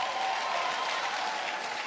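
A church audience at a sermon claps in a brief, even burst of applause, a dense wash of hands for under two seconds with no talk over it.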